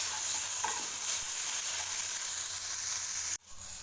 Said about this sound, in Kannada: ಸ್ವಲ್ಪ ಫ್ರೈ ಆಗ್ತಾಯಿದೆ, ಹಾಗೂ ಸ್ವಲ್ಪ ಫ್ರೈ ಆಗುತ್ತೆ